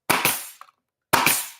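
A staple gun fires 1 1/4 inch staples in a workshop, two sharp, loud snapping shots about a second apart, each with a quick double crack and short ring-out, with a small click between them.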